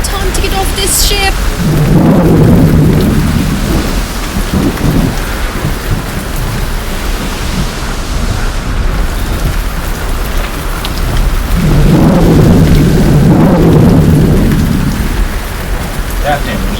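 Heavy rain pours steadily on a sailing ship at sea during a thunderstorm, with two long rolling thunder rumbles swelling loudly and then fading, each several seconds long.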